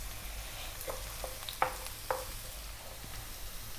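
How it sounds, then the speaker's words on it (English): Onion cooking in three tablespoons of olive oil for a pasta sauce, giving a steady low sizzle with a few soft clicks and scrapes from stirring, with no voices. "3 tablespoons of olive oil. I'm gonna put my onion in."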